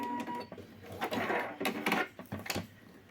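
A sewing machine stitches the hem of a men's t-shirt in short mechanical bursts of needle clatter, close and fairly loud, with brief pauses between runs.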